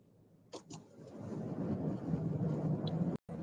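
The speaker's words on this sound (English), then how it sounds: "I'm driving. And in this kind of weather, you don't stop." A car drives through bad weather, heard from inside as a low, rushing road and wind roar that builds after a couple of soft knocks and then cuts out briefly near the end.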